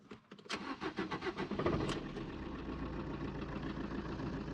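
A Fiat 500 engine cranks in a quick series of rhythmic turns, then catches and settles into a steady, fairly close idle, with no voices heard.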